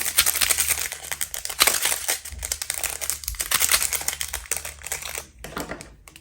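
Plastic bag of diamond painting drills crinkling and crumpling close up, a continuous run of dense rustling bursts with short pauses as it is handled.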